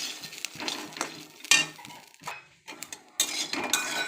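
Peanuts and green chili are stirred in a frying pan, giving irregular metallic clinks and scrapes of a utensil against the pan, close by and without speech.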